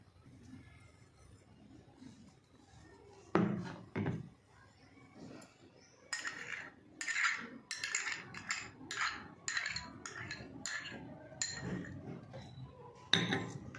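Spoon clinking and scraping in a bowl while yogurt chutney with mayonnaise, salt, red chilli and cumin powder is mixed, in a series of close, irregular taps and stirs.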